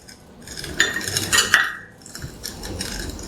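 A spoon stirring saffron into sugar in a pan, giving a few close metallic clinks and scrapes against the pan over a few seconds, without speech.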